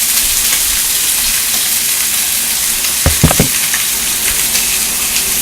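Pork chops fry steadily in a pan, a loud, continuous sizzle and hiss from close by, with a brief cluster of clatters partway through.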